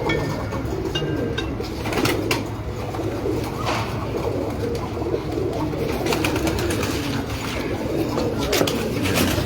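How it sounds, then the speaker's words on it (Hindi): Lal Pari pigeons coo in a loft, soft throaty calls rising repeatedly amid a busy mix of flapping, shuffling and other bird noise, with people talking nearby. "ये जो लाल परी थे मियाँ साहब को बहुत पसंद थे ये वाले कबूतर"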